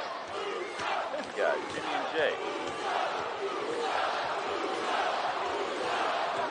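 Large wrestling arena crowd roaring and cheering for a tag team, a dense wash of voices throughout with a voice talking over it.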